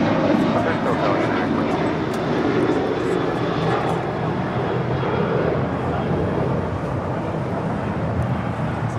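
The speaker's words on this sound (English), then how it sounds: "2318 departing to San Francisco on the 737-800" A United Airlines Boeing 737-800 jet departing LAX for San Francisco gives a loud, sustained engine roar throughout, close and steady, with no talking over it.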